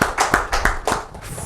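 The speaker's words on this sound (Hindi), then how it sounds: "एक और जोरदार तालियों के लिए" A small group claps in irregular bursts at a community honouring event, several quick near hand-clap flurries rising and fading over a short moment with no talk.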